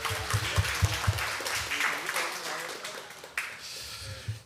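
Congregation at a middle-school youth worship service claps in greeting, a moderate burst of scattered applause with some voices mixed in, fading after a few seconds.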